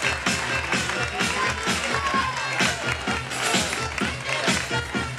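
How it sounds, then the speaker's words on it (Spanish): An audience at a Reina del Dulce de Leche pageant coronation in Cañuelas applauds continuously, a dense wash of claps and crowd noise over a steady low musical backing. "Fuerte ese aplauso para Fernanda Presta"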